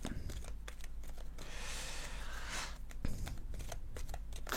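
A deck of playing cards is shuffled at close range in a steady run of crisp riffling and riffle bursts, heard alone with no talk.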